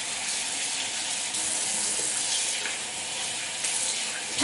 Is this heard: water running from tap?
yes